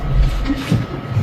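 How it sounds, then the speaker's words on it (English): A train passes close by on rail tracks near a bridge construction site, a loud low rumble with rising and falling swells and no talk over it. "That's the train."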